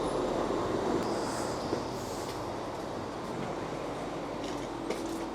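Aboard a three-car ScotRail Class 334 electric train, the ride gives a steady rumbling roar of running noise with faint squeals and occasional clicks of the wheels.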